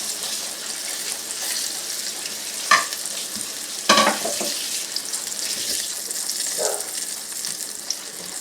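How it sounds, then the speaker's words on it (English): Pork chops sizzle and fry in a pan, a steady close crackle with a few sharp clinks and scrapes of utensils on the cookware. "we're just going to let those fry for a little bit until they get done, until they get brown on that side"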